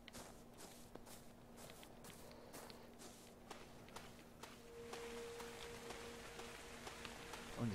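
Rain falls in the video game ARK Survival Evolved, a soft steady patter mixed with footstep-like crunches at a walking pace, faint overall with a low hum running underneath.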